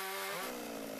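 A veteran forestry worker saws timber on a mountainside logging site with a chainsaw, its engine a loud, close, continuous high whine that shifts in pitch as the chain bites.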